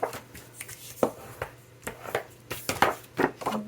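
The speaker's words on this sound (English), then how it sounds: "we're going to score this at the half so that when we fold" Scrapbook paper being scored across its half line for folding, heard as a run of short, close scraping and tapping strokes in an uneven rhythm, with no talk.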